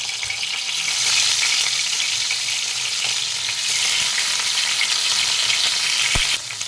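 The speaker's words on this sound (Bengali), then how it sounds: "তেল গরম হয়ে গেছে। এবার আমি মাছগুলো এক এক করে দিয়ে ভেজে নেব।" Turmeric-rubbed pieces of katla fish fry in hot oil, a loud, continuous crackling sizzle that swells as they go into the pan, with a sharp utensil knock near the end.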